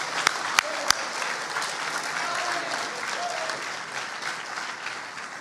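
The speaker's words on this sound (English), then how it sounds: "Give them a round of applause." A crowd at a high school baseball awards event applauds the players, a steady wash of clapping from many hands, with a few loud close claps at the start.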